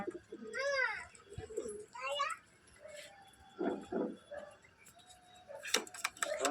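Pigeons (Teddy, Kamagar, Golden and Rampuri breeds) in a home collection give a few soft, nearby coos and rustles in short bursts, mixed with other bird chirps and someone talking quietly.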